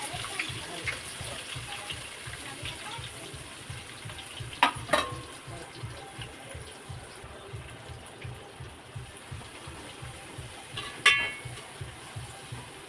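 Onion and curry leaves sautéing in hot oil for misal pav, a steady close sizzle with soft rhythmic stirring and a couple of brief clinks from the pan.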